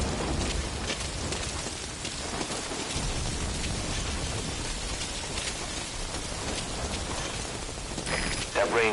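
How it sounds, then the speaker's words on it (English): Constant heavy rain hisses and patters without a break in the video game Metal Gear Solid V: Ground Zeroes, loud and close, with a few faint clunks and a brief tone near the end. "That rain just won't let up."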